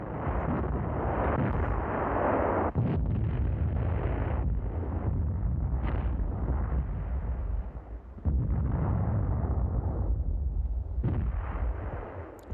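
Light field howitzers fire in a wartime front setting, each shot a loud, sharp blast followed by a rolling, rumbling decay. Several reports come at irregular intervals across a constant dense roar, with no voices.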